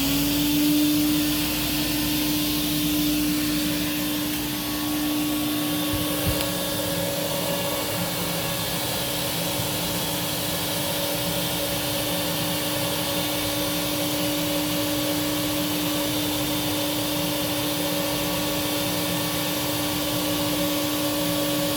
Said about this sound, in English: we'll get this started up and go turn the machine on